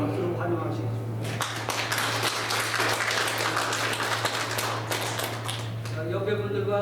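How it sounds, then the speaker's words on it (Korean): Steady applause from a church congregation fills most of the stretch, dense and even, with a low hum underneath and speech at the start and end. "박수로 환영하시겠습니다."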